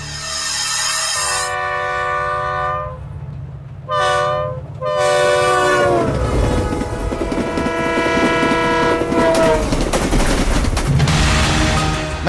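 A train at Jammu railway station blasts its horn in several long blares, then rolls past with loud, rhythmic clattering of wheels over rail joints and a rumbling engine, close by, with no talking.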